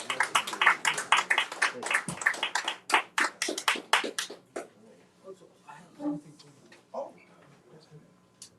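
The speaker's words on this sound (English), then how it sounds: "So let's give them a round of applause and thank you." Audience giving a round of applause at a book event, a burst of close clapping that fades out after a few seconds, followed by scattered quiet sounds and a little talk.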